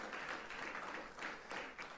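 Faint, distant applause from a youth church gathering audience, a soft continuous patter of hands heard from far off.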